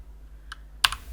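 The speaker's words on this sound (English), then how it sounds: "in here we want to type" A few quick keystrokes on a computer keyboard as a web address is entered in a browser: two short clusters of crisp clicks, close and clear over a quiet room hum.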